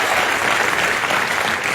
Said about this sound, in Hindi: इस बात के लिए पहले तालियां होनी चाहिए।